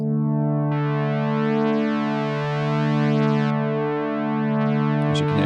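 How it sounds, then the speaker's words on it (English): A sustained, bright synth pad on a TyrellN6 with a stepped sample-and-hold noise driving the filter, its tone shifting in stepped jumps, holding loud and steady throughout with a short click near the end. "This is a stepped noise, which we'll demonstrate, and send that to the filter."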